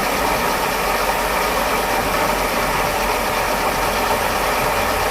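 A car engine with a freshly rebuilt fuel distributor runs steadily, recorded up close from atop the radiator, a loud continuous mechanical drone with faint ticking and no talk.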